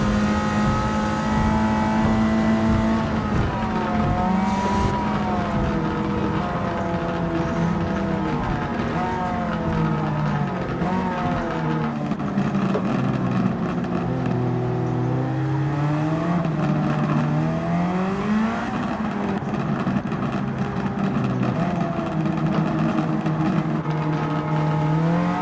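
Turbo car engine racing in Gran Turismo 7, rising and falling through repeated shifts and corners on a touge run, a constant loud game engine drone that wavers in pitch, with no voices.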